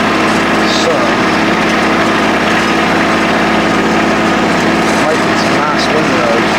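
A tractor engine drones steadily while pulling a Grizzly 4-wheel hay rake through a field of first-cut hay, a loud, constant mechanical hum with someone talking over it.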